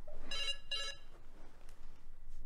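A telephone gives two short electronic rings, bright and fairly close, then falls silent, leaving faint room tone.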